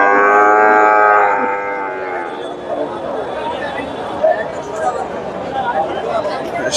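Brahman and Friesian bulls, including a Sahiwal-Brahman cross, at the Dhaper Haat cattle market in Bogura: a loud, drawn-out moo up close, then fading into a steady hubbub of crowd chatter.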